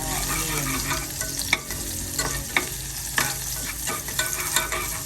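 Garlic frying in cooking oil, a steady close sizzle with occasional stirring clinks and scrapes against the pan.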